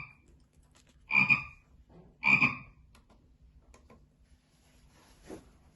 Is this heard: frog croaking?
yes